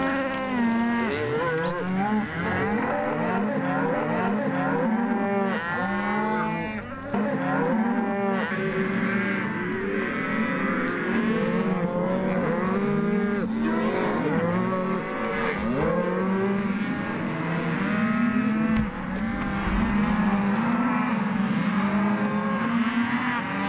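A herd of cows moos continuously while being rounded up for a yearly treatment. Many overlapping calls, some close and some farther off, sound at different pitches over steady background noise.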